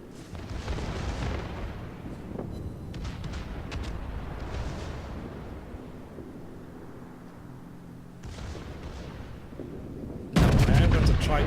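The secondary guns of a Montana battleship in World of Warships fire in a run of booming shots with rumbling echoes, then a louder, sharper burst at the very end.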